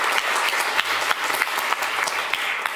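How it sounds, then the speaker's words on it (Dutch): An audience at a talk breaks into brisk applause: many hands clapping in a dense, even wash with sharper claps standing out, moderately loud and without speech. "Ja, dat krijgt een applaus."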